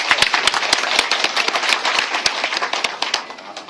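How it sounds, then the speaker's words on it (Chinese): An audience claps warmly to welcome and thank a high school principal at an event, dense sharp claps in a steady rhythm that ease off toward the end. "那我用最热烈的掌声来谢谢校长"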